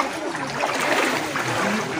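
Water sloshing and splashing steadily as someone wades through deep floodwater flooding the streets and homes of Saidapur village, a continuous close, busy churn with no voices.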